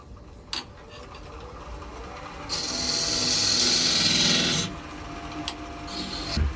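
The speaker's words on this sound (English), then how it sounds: "we'll scrape that out with the French curve scraper" A negative-rake French curve scraper made from an old planer blade scrapes turned wood in a steady, close rasping pass lasting about two seconds, with lighter scrapes before and after.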